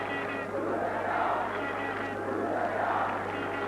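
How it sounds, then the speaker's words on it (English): Steady crowd roar from Romanian supporters at a Steaua Bucharest football match against Glentoran, a broad continuous hubbub swelling slightly in waves, moderately distant, with no clear individual voices. "the Romanian crowd now coming up with the chance"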